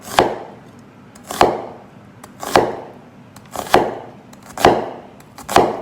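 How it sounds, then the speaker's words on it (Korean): A knife slices ingredients for pad thai on a cutting board, cut in slices as with garlic, giving six sharp, evenly paced chops roughly a second apart, close up and without talk. "다지는 것보다는 이렇게 마늘처럼 썰으시면 될 것 같아요"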